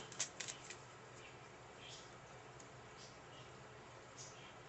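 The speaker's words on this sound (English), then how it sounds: "as I shuffle our last cards" Tarot cards being shuffled during a card reading, a few crisp riffling flicks near the start followed by faint soft card handling.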